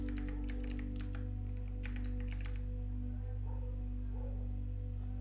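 Quick bursts of key taps on a computer keyboard as a password is entered during a Rocky Linux install in VirtualBox, clustered clicks that stop halfway, over a steady low electrical hum.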